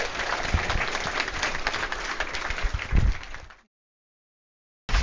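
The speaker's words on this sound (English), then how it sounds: "Let's give Dave a big round of applause." Audience applause for Dave McClure at a Startup Grind Silicon Valley event, a dense steady wash of many hands clapping for about three and a half seconds, swelling briefly near the end before cutting to silence.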